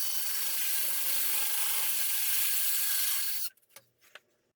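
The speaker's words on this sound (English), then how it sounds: "Using a bigger hole saw now, we are going to drill the hole for the mixing valve" A hole saw bores through the wall for a shower mixing valve during a bathroom remodel, a loud steady grinding drone for several seconds that cuts off abruptly, followed by a few faint clicks and knocks.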